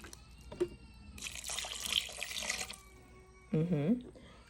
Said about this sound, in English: So we're gonna do 1 cup of water.